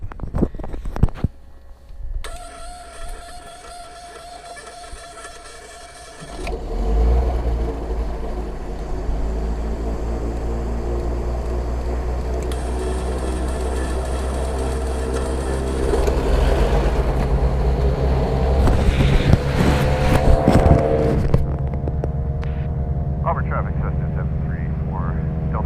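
Twin-engine Cessna 320 piston engines crank, catch and settle into a loud, steady running drone that builds and rises near the end, heard up close from the cockpit.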